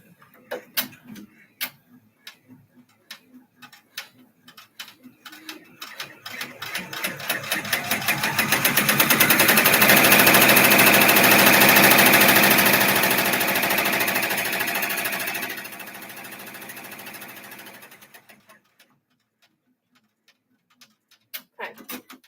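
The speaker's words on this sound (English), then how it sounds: "Now I'm going to stitch this." A machine stitching a zipper pouch starts with slow ticking clicks, speeds up into a loud rapid mechanical whir for several seconds, then slows and stops, with ticks resuming at the end.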